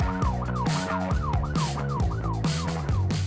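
A police car siren wails close and loud in a fast, rhythmic up-and-down yelp, cycling steadily throughout with a rumble of traffic beneath it.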